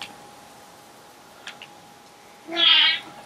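A single short cat meow in The Last of Us Part II near the end, clear and fairly close, after a quiet stretch with a faint steady tone and a couple of small clicks.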